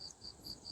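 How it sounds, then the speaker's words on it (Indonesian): Crickets chirp at night in a quiet rural village, a faint, steady series of short repeated trills, alone with no voices. "Nih ini ada suara jangkrik begini ya malam ya."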